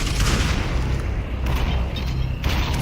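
Grenade blast in a multiplayer shooter match, a heavy continuous boom with dense gunfire-like rumble sustained throughout, loud and close, with no voices over it.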